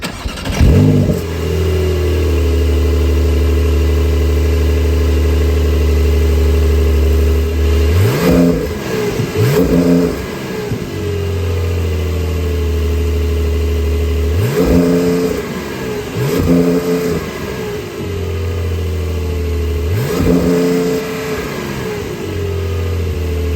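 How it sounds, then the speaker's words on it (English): A 2025 Porsche 911 Carrera's rear-mounted 3-liter twin-turbo flat-six is started, settles into a steady idle, then is blipped in several sharp, loud revs that climb and fall back, close by with no talking. "that 3-liter twin-turbo 6 engine sounds very good. Let's take a listen here."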